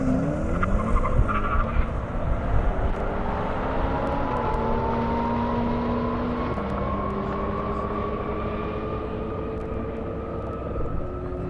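A Ferrari F8 Spider accelerates hard down an airstrip at a speed event, its engine note climbing steadily through the gears in a loud, continuous roar heard from fairly close by.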